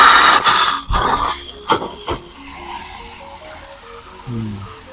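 An air release valve on a farm's waste-water pipe discharges water mixed with air, starting as a loud, close hissing spurt that fades into quieter gurgling and knocking.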